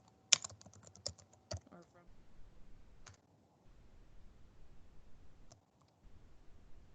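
Typing on a computer keyboard: scattered soft key clicks, a few sharper taps, and irregular pauses, faint and close in a quiet room.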